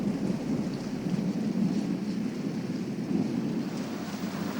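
Steady, heavy rain pours down in a dense, continuous hiss with a low rumbling undertone, no voices present.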